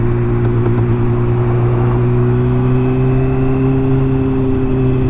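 A 2013 Kawasaki Ninja 636 motorcycle engine runs at a steady, loud, close hum, holding a fairly constant pitch throughout without any voices over it.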